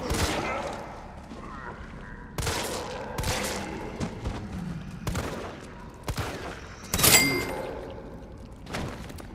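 Video game gunfire: several loud, sharp shots and short bursts spaced irregularly with brief gaps between them, close and punchy, with some rattling impacts.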